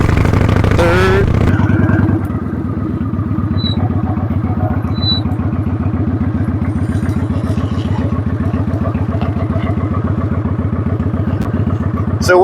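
A motorcycle rides through a neighborhood, its engine revving and changing pitch as gears are shifted, then settling into a steady close putter; brief speech is heard near the start.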